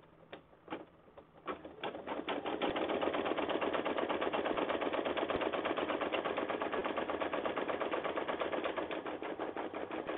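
An embroidery sewing machine stitches an initial, starting with a few separate knocks and then settling into a fast, steady, mechanical chatter of needle strokes that runs on close and even.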